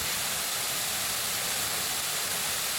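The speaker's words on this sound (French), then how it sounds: "Du coup, petite cascade." A small waterfall on a hiking trail in Tahiti pours steadily, a dense even rushing hiss heard fairly close, with no voices or breaks.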